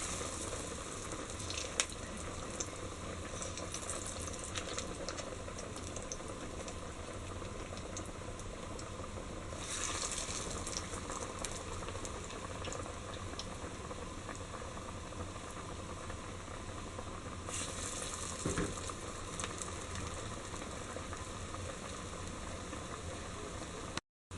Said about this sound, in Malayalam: എണ്ണയിലിട്ട് വറുത്ത് കോരിയെടുക്കാം.